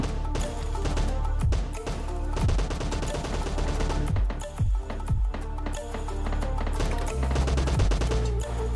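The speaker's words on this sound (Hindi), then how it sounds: "तो फिर देखो बंदे के ऊपर मैंने गोली चलाया" Rapid bursts of gunfire from a PUBG Mobile Lite match, dense and continuous over game sounds, with repeated loud shots throughout.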